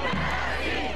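Iranian protesters rally in Union Square, San Francisco, and their crowd shouting forms a dense, loud, continuous roar of many voices, with no single speaker standing out.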